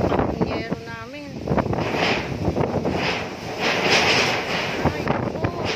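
Typhoon Rolly's strong wind and rain batter the area, with gusty roaring buffeting and a constant wash of rain swelling and easing, while a person speaks over it near the start.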